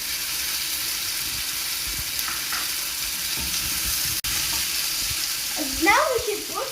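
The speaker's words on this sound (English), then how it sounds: "we should put the rice in the frying pan" Rice sizzles and crackles steadily in a hot frying pan on a home stove, a constant close hiss, with a faint voice near the end.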